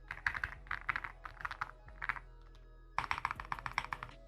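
Rapid keystrokes on a mechanical keyboard with Radiant Red switches, typed in close bursts that pause briefly before a dense final flurry of clacks.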